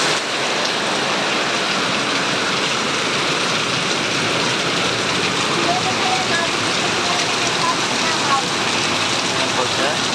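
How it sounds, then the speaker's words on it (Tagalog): Heavy rain pours steadily over Payatas, Quezon City, a dense, unbroken wash of falling water that stays loud and even throughout with no pauses. "Malakas po ngayon dito ang ulan sa Payatas,"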